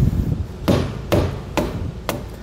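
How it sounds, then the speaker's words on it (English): A hammer strikes a part of a Kodiak disc brake kit four times at an even, unhurried pace, sharp metallic knocks close up with no talk. "and take your hammer"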